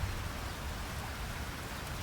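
Rain falls in the farming life-sim game Fields of Mistria, a steady, soft broadband hiss of drops on surfaces, even and unbroken, fairly quiet, with no talk.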